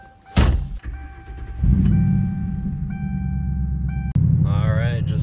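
A car driving on the road after leaving a gas station, its steady engine rumble and road noise running throughout, with a brief interior click and a short break in the drone before it resumes.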